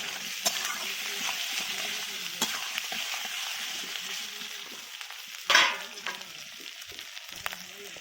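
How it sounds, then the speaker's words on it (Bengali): Kohlrabi, potato and egg curry cooking in a home kitchen: a continuous sizzle with a sharp burst of hissing partway through and occasional light clinks of stirring, without talk. "এখন আমার রান্নাঘরে রান্না হচ্ছে ওলকপি আলু ডিমের কারি"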